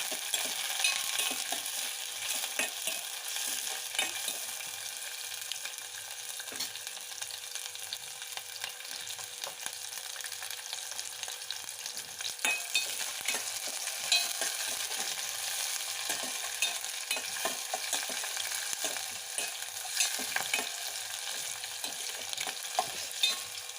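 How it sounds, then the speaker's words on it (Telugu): Green chillies fry in hot oil in a pan for a capsicum prawn masala curry, a steady close sizzle with scattered small crackles and spatters running throughout, with no voices. "ఫ్రై చేసుకుందామండి"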